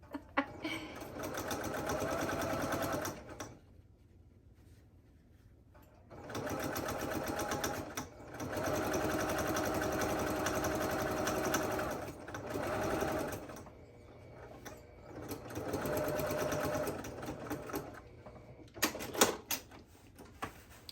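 A sewing machine stitches a French seam on a fabric drawstring bag, running in steady bursts of several seconds each with short pauses between them. It is close and loud, and no one talks over it.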